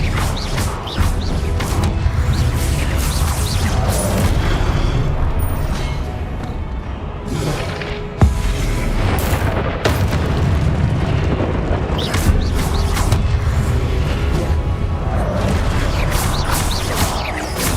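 Spell explosions in Hogwarts Legacy crackle and boom in a dense, continuous game soundscape, with repeated blasts, whooshes and a sharp crash midway, layered over steady background rumble.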